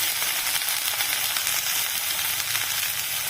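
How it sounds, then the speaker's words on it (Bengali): Chopped vegetables hitting hot fried onions in a pan, giving a steady, loud, broadband sizzle that holds without a break throughout, with no talking. "এবার আমি কেটে রাখা সবজিগুলোকে অ্যাড করে দিই।"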